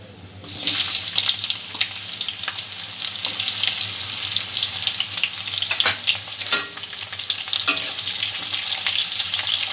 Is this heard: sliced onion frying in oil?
yes